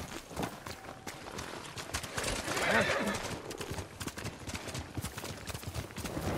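Horse hooves clip-clop at a trot in the Ghost of Tsushima video game, a steady rapid patter beneath continuous talk, with a brief whinny and surrounding battle-camp ambience.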